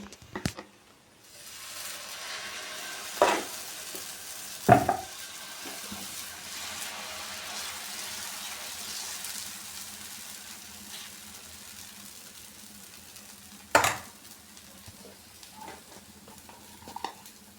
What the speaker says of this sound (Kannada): ಮತ್ತೆ ಇನ್ನೊಂದು ದೋಸೆ ಹಾಗೆ ಹಾಕೋತೀನಿ ನೋಡಿ